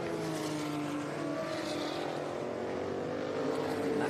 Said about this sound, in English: That car of Duncan's a 1989 Porsche 962C